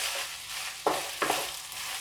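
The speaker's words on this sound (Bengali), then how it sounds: "এবার পুরো উপকরণগুলোকে তেলের সঙ্গে মিশিয়ে দিয়ে ভালো করে একটু ভেজে নিতে" Jeera pulao ingredients, including a little flattened rice, sizzle steadily in hot oil over a gas flame, with a couple of sharp stirring scrapes cutting through the constant frying hiss.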